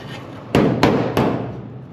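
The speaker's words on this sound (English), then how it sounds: "I am going to go over to the anvil and hammer that straight" Hammer striking a small metal patch on an anvil to straighten it, three sharp, close, ringing blows spaced about a third of a second apart, alone with no talk.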